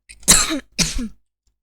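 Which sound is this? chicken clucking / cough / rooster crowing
cough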